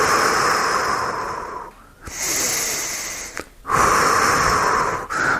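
Deep, slow breathing during a back stretch for disc bulge and facet joint relief: three long, airy, wheezy breaths close to the mic, separated by short quiet gaps.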